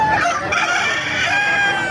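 A rooster crows loudly and nearby in one long drawn-out call at a market in Bocaue, with other fowl clucking in the background.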